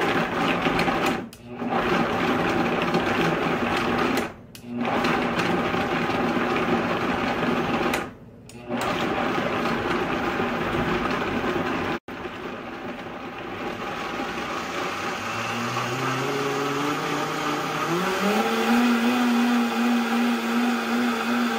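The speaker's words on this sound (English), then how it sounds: "a cup and a half of hot water to a high-powered blender like a Vitamix. We're gonna blend this up until it is smooth" A high-powered Vitamix blender whirs loudly as it blends a vegan sauce with hot water. The motor briefly stops three times, then restarts and rises in pitch as the mixture smooths out.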